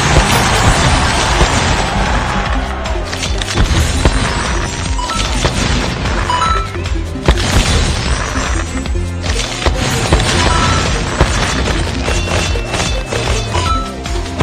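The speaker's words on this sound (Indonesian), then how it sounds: "Ayo kita nyalakan kembang api." Cartoon fireworks being lit in a panda children's game: repeated booming bursts and crackling pops, loud and fairly continuous, with a few sharper bangs spread over the stretch.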